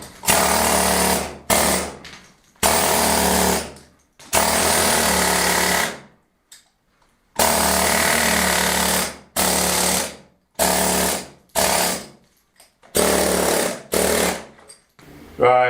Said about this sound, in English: I've got a piece of marble here that I can't get through with the air hammer